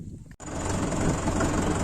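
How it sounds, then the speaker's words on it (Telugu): A tractor engine runs steadily at close range, a loud continuous low rumble following a brief cut at the start. "ఇప్పుడైతే ట్రాక్టర్ వేసుకుని అయితే పోతున్నాం"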